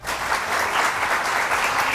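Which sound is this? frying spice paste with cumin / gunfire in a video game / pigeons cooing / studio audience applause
studio audience applause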